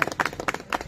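An audience at a family birthday celebration held inside a temple claps in a short burst of several quick, close handclaps.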